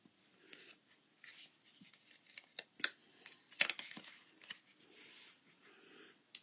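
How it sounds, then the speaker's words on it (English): Backing strip peeled off tear and tape adhesive on a Book Jacket fun fold card: faint, close crinkly rustling with a few sharp crackling peaks, no talk. "now I'm going to take away my tear and tape backing"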